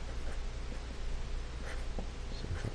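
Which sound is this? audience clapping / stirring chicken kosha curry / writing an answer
writing an answer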